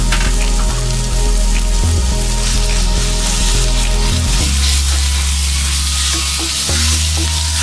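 Minced mutton sizzles loudly as it is sautéed in a pan, a dense, close frying hiss with stirring over a steady low background hum.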